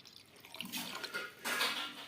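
A glass of water pours into spiced buttermilk in a home kitchen, making two surges of splashing, gurgling liquid noise at close range with no talk.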